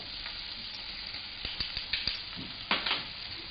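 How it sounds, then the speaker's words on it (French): Chopped carrots and onions sizzling in olive oil in a hot pan, a steady soft fry with a few light stirring clicks and scrapes, close and fairly quiet. "Dans une poêle chaude, mettre un filet d'huile d'olive et mettre les carottes et les oignons hachés avec une pincée de sel fin."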